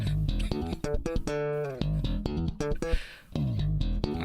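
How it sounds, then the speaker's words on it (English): Slap bass solo in a funk style, percussive thumb-slapped and popped notes with quick pitch runs and sliding phrases, loud and upfront throughout, no voices. "And I've also got a slap bass solo."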